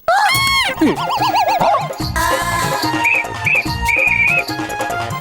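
A whistle blown and stuck in a grandfather's mouth warbles in shrill, wavering squeals with springy boing-like bursts, loud and close, followed by sustained high toots.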